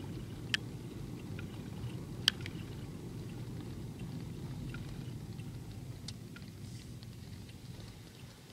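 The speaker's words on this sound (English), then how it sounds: "We got a lot of rain here." Steady rain falls outdoors, a soft continuous patter with a low rumble beneath and a couple of sharp isolated drips or taps, no voices.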